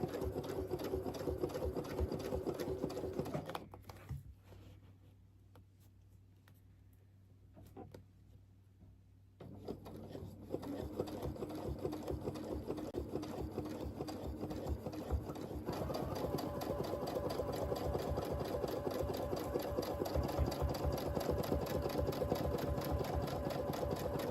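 A sewing machine runs close and steady while stitching a churn dash mini quilt, a continuous rapid whirring hum broken by one pause of several seconds before resuming and carrying on to the end.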